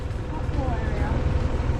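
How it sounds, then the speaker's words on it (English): A moped engine drones with a low, labored rumble while climbing a steep hill near Mt Batur in Kintamani, steady and close, with wind buffeting the microphone over it. "You could hear the moped struggling."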